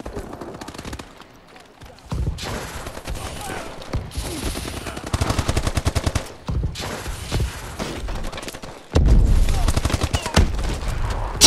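Online multiplayer Call of Duty: Advanced Warfare, Supremacy mode on the Skyrise map: rapid automatic gunfire comes in repeated bursts, some distant and some close, with heavy loud volleys near the end.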